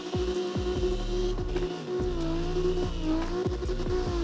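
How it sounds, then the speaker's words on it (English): A drifting car in the CarX Drift Racing video game, its engine droning steadily with a wavering pitch and a string of sharp, regular clicks and bursts, close and alone with no talk. "The bass engine just sounds like a screwdriver's just being thrown around in it into the pistons."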